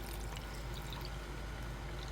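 Water poured into a rock tumbler barrel over yard rocks, a steady, even trickling pour filling the container throughout, close and moderately quiet with no talking.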